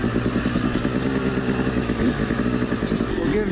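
A Yamaha YZ250 two-stroke dirt bike runs through snow, its engine buzzing and revving steadily at close range throughout, with a faint clatter and no talking.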